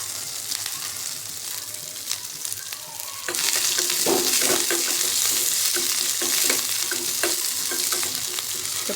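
Chopped coriander leaves hit hot tempering oil for a mung dal and rice dhokla, a quiet sizzle jumping to a loud, steady fry with scattered clicks of a stirring spoon against the pan.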